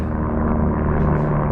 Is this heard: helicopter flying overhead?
yes